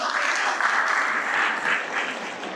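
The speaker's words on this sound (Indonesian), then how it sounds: "Boleh tepuk tangan sekali lagi teman-teman." Steady, full applause from an audience at an Islamic lecture event, a continuous wash of many hands clapping at close range with no voices over it.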